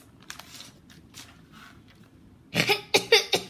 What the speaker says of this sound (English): Coughed.